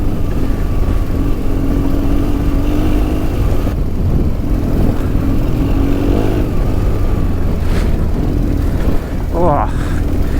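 A 2004 BMW R1200GS motorcycle engine revs and drones steadily on an off-road green lane, its loud mid-pitched note rising as the rear wheel spins, with wind noise and a voice talking over it.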